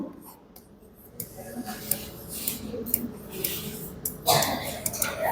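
Chalk or marker scratches and taps across a board in a lecture setting, in short scratchy strokes that come in bursts, with room noise and a voice in the background.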